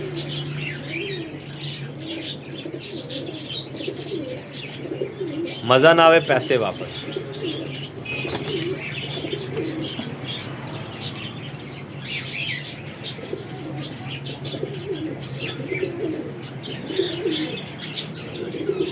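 Pigeons of a satup breed coo in a loft, with chirps and a brief burst of wing flapping partway through, while someone talks over the birds throughout.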